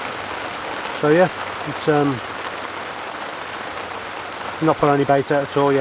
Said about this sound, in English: I'm still waiting for the rain to go away before I come up with a proper plan